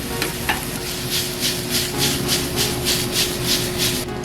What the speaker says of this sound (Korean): 양파를 먼저 약간 갈색빛이 돌 정도로 볶아주시면 돼요